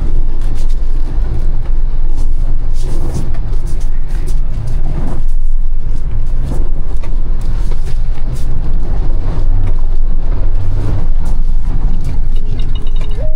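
A Mahindra Thar SUV driving off-road, its engine giving a loud, steady rumble with bumps and rattles of the vehicle throughout, heard close up with no talking.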